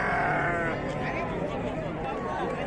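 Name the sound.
sheep bleating at a sheep and goat market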